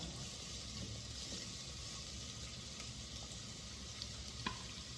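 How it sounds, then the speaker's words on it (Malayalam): Sliced vegetables and cabbage sautéing in a pan give a steady, faint sizzle with soft stirring scrapes throughout, and no voices. "നീളത്തിലാണ് എല്ലാം അരിഞ്ഞ് വെച്ചിരിക്കുന്നത്, ഇട്ട് വഴറ്റുക."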